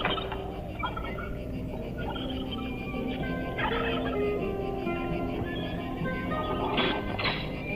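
Turkeys on a farm gobble in repeated bursts, loud and close, over a busy barnyard background, with a few sharp louder calls near the end.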